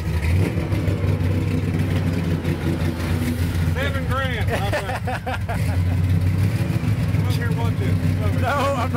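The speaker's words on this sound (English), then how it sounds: "Don't rev it like that." A truck engine revs hard in a garage during tuning on a 2014 truck, its steady loud mid-range roar rising and falling under several people talking nearby.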